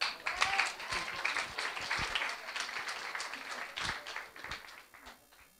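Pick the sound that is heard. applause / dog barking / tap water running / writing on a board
applause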